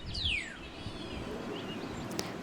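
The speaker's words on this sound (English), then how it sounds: "Examples of high-pitched sounds are birds chirping in the morning" Birds chirp in the morning air, a few quick high sweeping tweets and calls over a faint outdoor background, fairly soft and heard alone.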